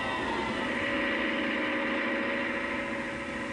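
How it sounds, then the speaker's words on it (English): Leyland 344 or 384 tractor engine running steadily under load on a dynamometer, a continuous droning hum with a low throb at constant speed, close and even throughout. "Here, a tractor is coupled to a dynamometer to check that power output is up to specification throughout the engine speed range."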